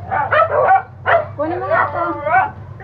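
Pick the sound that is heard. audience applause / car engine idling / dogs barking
dogs barking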